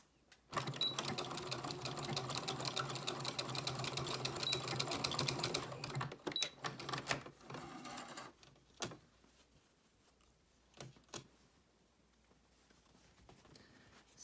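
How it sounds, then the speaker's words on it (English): A sewing machine stitching fabric for a casserole hot pad, a fast steady close mechanical patter for about six seconds, then a few short bursts and scattered clicks as the stitching ends, quiet overall with no talk. "I like to start with my needle on the fabric and then back stitch just to prevent any fabric from bunching as I sew"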